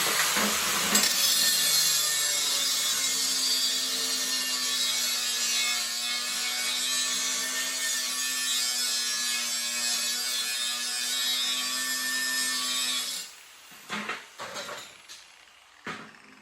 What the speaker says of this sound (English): So with a grinder and a piece of steel, I'm just gonna start grinding.